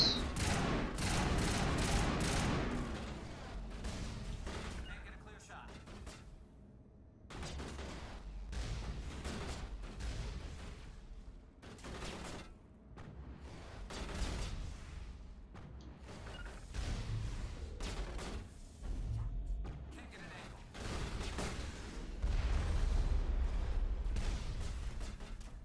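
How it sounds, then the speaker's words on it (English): Gunfire in the video game Mass Effect Legendary Edition, repeated bursts of shots and booming blasts in clusters with short lulls between, loud and continuous through most of the stretch. "Gotta shoot these guys, like, it can't be hard, right?"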